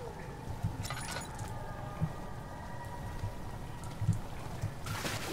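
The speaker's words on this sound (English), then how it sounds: "It's pouring." Heavy rain in the video game Amnesia: The Dark Descent pours steadily as a soft, constant patter, fairly quiet, with a few faint thumps and tones over it.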